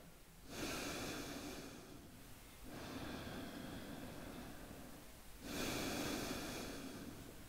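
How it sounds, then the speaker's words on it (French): Deep abdominal breathing: three long, slow inhalations or exhalations, audible and close, with quiet pauses between them and no talk. "en commençant à respirer sur le bas de l'abdomen et qui ensuite remonte pour amplifier et déployer votre respiration"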